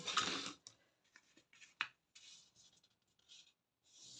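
Paper card is creased and folded by hand for a pop-up card, giving soft rubbing and crisp scraping sounds in short separate bursts, close and fairly quiet.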